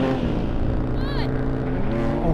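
A BMW M4 launches hard off the line in a race, its engine giving a loud, continuous roar with a short rising whine of revs in the middle, close and steady throughout.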